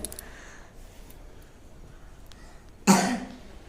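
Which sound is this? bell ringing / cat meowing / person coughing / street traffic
person coughing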